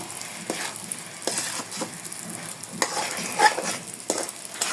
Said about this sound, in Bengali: এই যে মশলার সাথে ভালোভাবে মিশিয়ে দিতে হবে